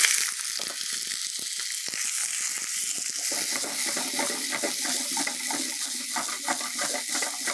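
Small chicken pieces fry in a pan with garlic and pepper for a South Indian pepper pirattal, giving a steady close sizzle broken by scattered crackles and stirring clicks.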